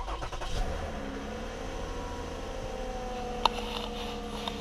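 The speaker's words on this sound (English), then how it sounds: "Let's start the car up." A car engine starts and settles into a steady idle during an OBD2 scanner test, a continuous mid-level hum with a brief sharp knock partway through, heard alone without talk.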